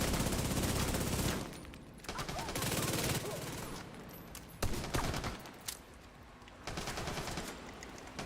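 Heavy video game gunfire aimed at the player, loud rapid bursts of automatic fire and crackling shots in repeated volleys with brief lulls between, close and harsh throughout.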